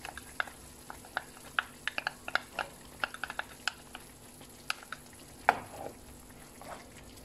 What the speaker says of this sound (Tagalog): I-mix nyo lang siya ng mabuti guys.